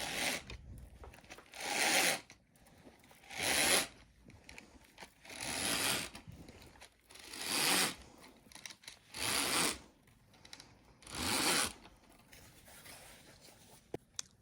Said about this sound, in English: I'm going to raise the shade by pulling on the chain.